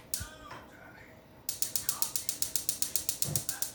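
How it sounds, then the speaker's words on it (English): Rapid, evenly spaced clicking from a gas stove burner igniter, about a dozen sharp clicks in a steady rhythm after a brief quieter moment. "So I'm going to turn it on. You want to hear a click, click, click?"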